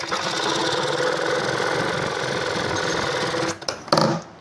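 A sewing machine stitches kurti fabric in a fast, even whirring run close by, then stops with a few handling clicks and knocks, with no talking.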